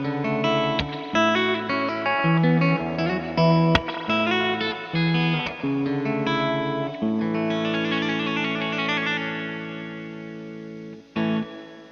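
Electric guitar played through a reverb effect with pre-delay, notes and chords ringing out with a spacious wet tail and a gap before the reverb blooms, continuous and up front with no talking.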